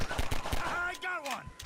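Gunfire in the game Half-Life 2 Synergy: several sharp shots in a quick irregular burst, fairly loud, with game sounds and a voice mixed in.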